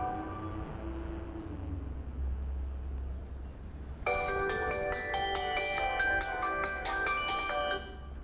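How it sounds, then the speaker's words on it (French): A telephone rings in a domestic scene, a bright repeating electronic ring that starts midway and pulses steadily at close range over a low background hum. "Quand le téléphone sonne"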